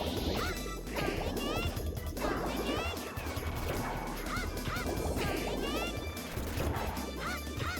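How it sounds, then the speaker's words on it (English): Power punches strike enemies again and again in the video game Silhouette Mirage, sharp crashing hits and smacks repeating over busy game music and squawking effects at a moderate level. "Power punch enemies in over and over and over again."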